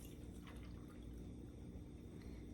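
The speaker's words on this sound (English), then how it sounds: "we're going to put 2 cups of milk" About two cups of milk pour into a saucepan with a faint, steady liquid trickle and splash that runs briefly and quietly throughout.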